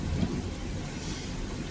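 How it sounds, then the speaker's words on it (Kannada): Heavy rain pours steadily with rumbling thunder during a downpour on a roadside trip toward Kunigal, a dense continuous roar close by with a low boom near the start and no talking. "ಮಳೆ, ಗುಡುಗು ಮಿಂಚು ಹೊಡಿತಾನೆ ಐತೆ ನೋಡಿ."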